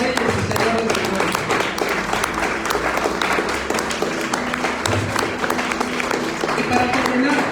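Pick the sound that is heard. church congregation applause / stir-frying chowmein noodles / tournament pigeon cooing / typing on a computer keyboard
church congregation applause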